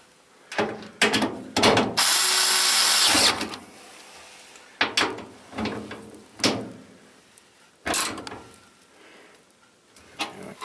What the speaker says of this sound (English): I'm just going to screw them in with the screwdriver